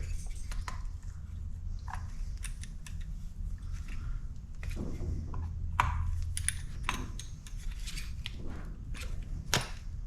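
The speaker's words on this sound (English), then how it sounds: "So now we're just going to tighten up these 2 screws" A screwdriver tightens two screws on the ignition coil of an Echo leaf blower, giving close, scattered clicks and scraping ticks over a low steady hum.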